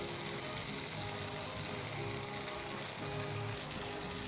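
Boiled egg slices hitting a hot karahi over a medium-high flame, a steady close hiss of frying that fills the clip without a break and with no talk.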